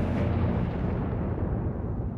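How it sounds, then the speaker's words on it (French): Dassault Mystère IVB jet breaking apart near the ground in an explosion, a heavy, booming rumble that starts loud and fades slowly over a couple of seconds. "son avion se désintègre près du sol"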